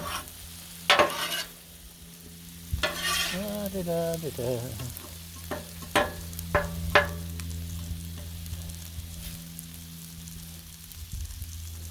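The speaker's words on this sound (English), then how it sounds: "See, the noodles are breaking up as they heat up." Beef and noodle stir fry sizzles steadily on a Blackstone griddle, with a continuous hiss punctuated by several sharp scraping clatters of a spatula and brief bursts of louder frying.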